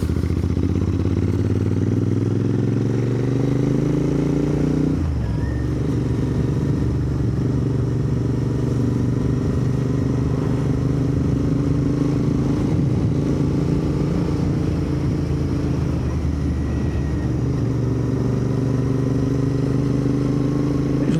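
A Royal Enfield Interceptor 650 motorcycle is ridden on the road, its engine droning loud and steady with rising and falling revs as gears change, wind rumble underneath.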